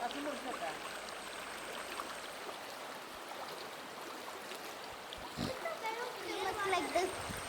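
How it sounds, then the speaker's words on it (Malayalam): Water flowing at Ponmudi Kallar, a steady broadband rush of stream and splashing that swells louder toward the end, with voices and activity around it. "ആ വെള്ളത്തിന്റെ സൗണ്ട് ഇങ്ങനെ കേൾക്കുന്നുണ്ട് കേട്ടോ"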